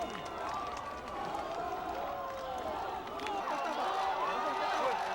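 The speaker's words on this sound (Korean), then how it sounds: "탄 차가 들어오자 지지자들은 대통령의 이름을 연호하기 시작했습니다" Crowd of supporters welcoming former Korean president Roh Moo-hyun on his homecoming as his car arrives, a dense continuous murmur of many voices with chant-like calling and scattered clapping throughout.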